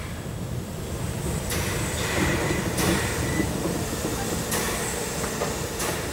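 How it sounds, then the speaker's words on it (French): A steam locomotive braking as it arrives at a station, a steady rolling rumble with occasional high squeals and clanks from the wheels, close and fairly loud. "Arriver dans une gare, s'arrêter à l'endroit voulu est tout un art, car chaque train réagit différemment au freinage."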